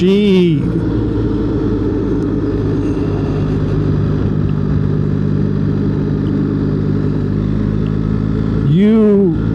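A 2025 BMW R 1300 GS motorcycle engine idles with a smooth, steady drone throughout, with a brief rising-and-falling rev at the start and again near the end.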